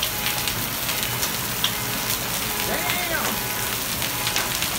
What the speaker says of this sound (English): We're having some major hail.